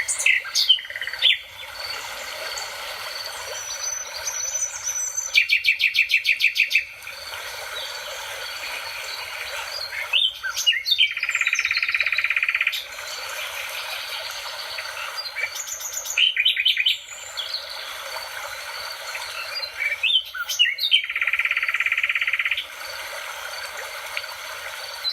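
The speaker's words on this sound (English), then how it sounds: "So that you can hear what a real nightingale sounds like" A recorded nightingale sings in phrases: rapid repeated trills, whistled notes and buzzy chirps broken by short pauses. A faint stream runs underneath, and no voices are heard.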